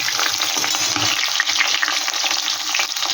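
Potato pieces fry in hot oil in a pan for a vegetarian potato biryani, giving a loud, close, continuous sizzle with crackling bursts and the scrape of stirring throughout.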